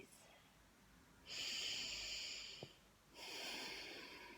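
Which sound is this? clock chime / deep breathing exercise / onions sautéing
deep breathing exercise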